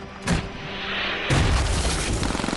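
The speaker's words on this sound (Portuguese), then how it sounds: "Os sons dos disparos estão cada vez mais altos." A heavy boom erupts, followed by a sustained rumble and a quick series of rapid pops toward the end, loud and close.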